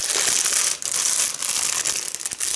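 Loud, close crinkling and crackling of a plastic packet of pitted dried apricots being handled and pulled open, continuous with a few sharper crunches.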